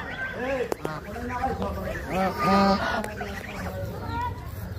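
Geese at a kite fair in Manikganj honk and cackle in short repeated calls, close and fairly loud, amid a crowd's background chatter.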